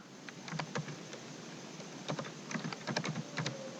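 Rapid computer keyboard typing of Java code, bursts of sharp key clicks with short pauses between, fairly quiet and alone without talk.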